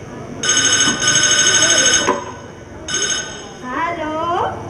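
A telephone rings on stage during a Telugu stage play, sounding in two clear bursts of bright electronic trilling with a short gap between, while actors speak over and around it.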